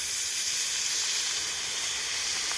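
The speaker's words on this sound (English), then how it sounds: "what you want to do is steam them real quick" Grilled cheesesteak meat steams on a hot griddle, a loud, continuous, even hiss and sizzle with no talking.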